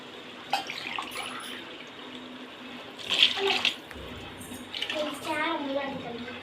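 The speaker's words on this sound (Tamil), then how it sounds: "இதில் மூணு டம்ளர் தண்ணி ஊற்றுறேன்" Water pours from a tumbler into a pot of rice in a few bursts, with splashing that swells and fades over several seconds.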